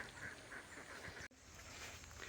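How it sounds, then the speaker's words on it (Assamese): Repeated duck quacks close by over a steady noisy background, with a brief dropout partway through. "ইধাৰ দেখো ইয়া হাঁহ"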